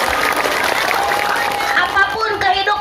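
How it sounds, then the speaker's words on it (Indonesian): A Sundanese religious lecture audience claps for the organizing committee, a moderate round of applause with crowd murmur while a voice speaks and sings over it near the end. "Tepuk tangan untuk panitia."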